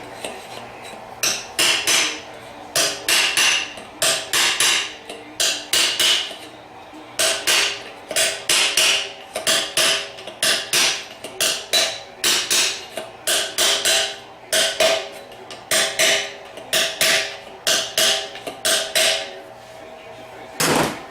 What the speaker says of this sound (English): You can go ahead and tap that cover into place. I like to use a punch.